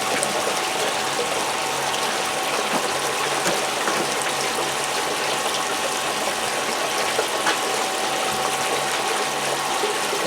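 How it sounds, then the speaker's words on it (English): Water runs steadily from a tap or hose while collecting water for a black sand dredge cleanup, a loud, continuous gushing rush with no pauses. "Let me get some water."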